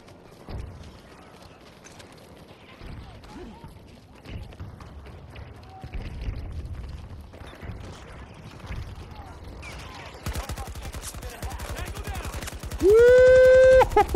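Rapid automatic fire from an AK-24 rifle in the shooter game Battlefield 2042: a dense, loud burst of closely spaced shots runs through the last few seconds, over earlier scattered battle noise and a speaking voice, ending with a rising electronic tone.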